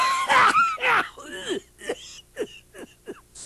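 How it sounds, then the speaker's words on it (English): A voice acts out a hacking cough, starting with two strained, raspy bursts and trailing into a run of shorter, weaker wheezing hacks at an uneven rhythm. "Hacking cough."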